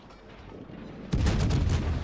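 Heavy 203mm high-explosive shells fire from a cruiser in a naval combat video game, a sudden loud, sustained boom after a quieter lead-in, with rumbling low-end blasts rolling on for about a second.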